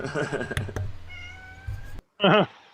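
A cat meows loudly up close, a rising then falling cry after a short silence, with some muffled background noise and faint speech earlier.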